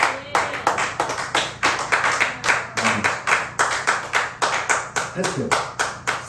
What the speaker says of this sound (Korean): 박수를 올려드립시다.